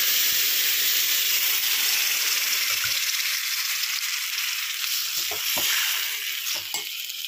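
A boiled meal maker and amaranth curry tipped into hot tempering of onion, chilli, curry leaves and ginger-garlic paste, giving a loud close sizzle and steamy hiss, with a few stirring knocks near the end.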